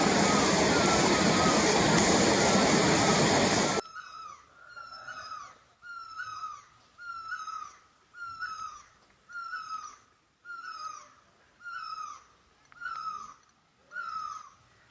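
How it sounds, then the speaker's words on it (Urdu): Shamir waterfall near Spingal Sar Lake in Kalam, Swat, roars loudly as a broad rushing wash for about four seconds, then cuts off abruptly. Repeated high chirping calls follow at a steady rhythm. "یہ شامیر کی آبشار ہے۔"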